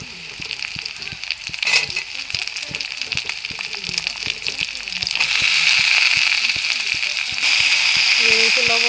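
Washed vegetables tipped into a pan of onions fried until reddish, the hot oil hissing and sizzling loudly, swelling into a stronger steady fry partway through, with utensil clinks and stirring scrapes.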